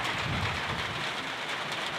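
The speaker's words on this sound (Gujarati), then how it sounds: "આ વરસાદ પડવાનું શરૂ થઈ ગયું છે" Rain just starting to fall hisses in a dense, even wash of noise, close and continuous, with no voices.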